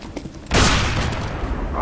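A sudden loud blast of CS:GO gunfire erupts, then a sustained roaring burst of shots and rumble continues to the end, with no talking.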